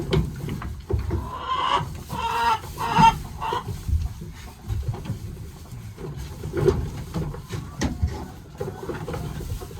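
Chickens cluck in a barn where hens come in to lay eggs, with soft, irregular clucks and murmurs repeating across the stretch over a constant low rustle of farm activity.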